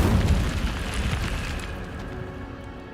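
Incendio fire spell bursting in Hogwarts Legacy on hard mode, a loud broadband blast at the start that fades into a dense crackling roar over about three seconds, with no talk.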